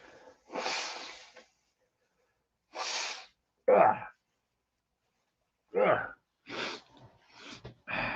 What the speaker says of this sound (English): I got to blow my nose again